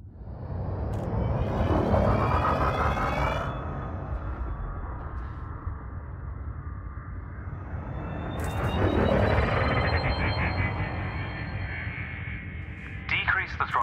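Spaceship thrusters in Elite Dangerous roar up into a broad rumbling whoosh that swells, eases, then surges again, with brief electronic chirps near the end, steady and loud throughout.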